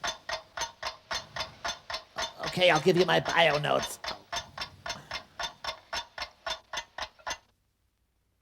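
A clock ticks in an even rhythm of roughly two beats per second, crisp and close. A voice talks briefly over it midway, and the ticking stops abruptly near the end.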